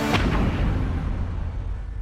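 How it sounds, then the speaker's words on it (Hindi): A cannon booms during the Red Fort light and sound show in Delhi: one heavy blast with a long, rumbling reverberation that fades slowly. "और तोप की गूंज।"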